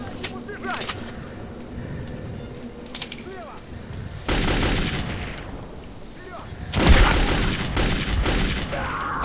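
Gunfire and a heavy grenade blast in the shooter game Metro 2033: scattered shots, then two loud broadband explosive bursts, the second the strongest, with voices calling out over the combat.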